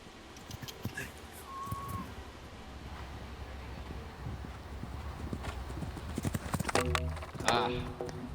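Hooves of a large show jumper during a jump-off at the American Gold Cup CSI4* World Cup qualifier, clip-clopping over wind noise, with brief horse sounds and a louder, busier burst of activity near the end.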